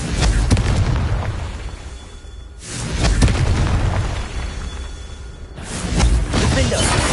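Fire-spell explosions go off in the Hogwarts Legacy video game, loud booming blasts that recur in surges with crackling debris between them.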